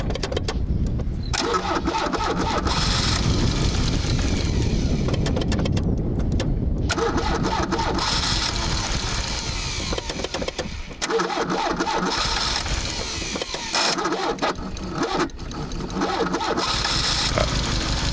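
A Peugeot 405 Mi16 under restoration, previously out of fuel, cranks over and fires up, with loud, close bursts of cranking and engine noise that come and go across the stretch.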